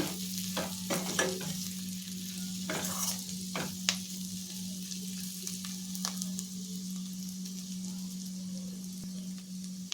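Cluster beans with grated coconut stir-frying in a pan, with a soft steady sizzle and intermittent scraping stirs and light clinks of a spoon against the pan, fairly quiet and close.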